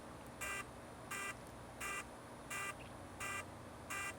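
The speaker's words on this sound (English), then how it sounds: "So if I hit start flashing and beeping," A DJI Mavic Mini drone sounds its find-me alarm outdoors, six evenly spaced shrill electronic beeps about two-thirds of a second apart, moderately close against steady background noise.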